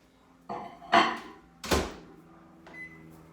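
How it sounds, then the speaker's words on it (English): A home microwave oven warming a peanut butter and oatmeal mixture: a door clunks, the keypad beeps and the oven hums, then another door thump and a soft tone in a quiet kitchen. "I have to put this back in the microwave for a couple of seconds"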